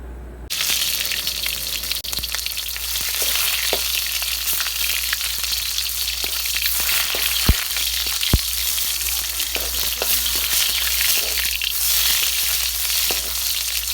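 Small-fish sauce simmers in a pot in a rural kitchen, giving a steady, close, bubbling sizzle that runs throughout, with a few faint clinks.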